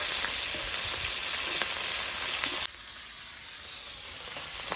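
Fresh river bacha fish fry in oil in a pan with a loud, continuous sizzle that suddenly drops to a quieter hiss partway through.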